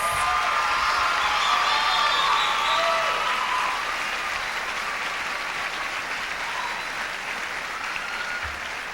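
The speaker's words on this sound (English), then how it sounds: "let's have one final round of applause for all 56 delegates" Sustained applause from a large crowd at the Miss California USA 1997 pageant fills the whole stretch, loud and dense, with scattered cheers and whoops, slowly easing off toward the end.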